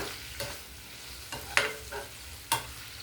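Cumin-chili spice mix with salt, for an ivy gourd fry, being fried and stirred in a pan, a soft continuous sizzle broken by a few sharp spatula scrapes, no voices.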